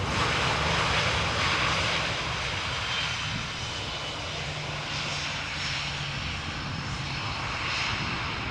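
An airliner arriving to land at Amsterdam Schiphol with spoilers lowered, a broad steady engine roar and wind rush that fills the scene, fairly loud and slowly easing, with no voices.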